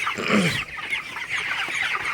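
Broiler chickens, 26 days old, cluck and chatter close by in a hot shed, a busy flock with overlapping calls and no talking.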